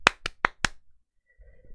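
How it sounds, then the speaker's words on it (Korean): Four sharp, evenly spaced hand claps ring out close by during a Korean stock-market lecture broadcast, then fall to near silence. "박수!"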